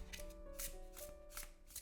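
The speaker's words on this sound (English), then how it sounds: "Let's see how this guy is shuffling." A Venus Morningstar tarot deck is shuffled by hand, giving a few quick, soft papery riffles and flicks in rapid succession, faint and close, with no talk.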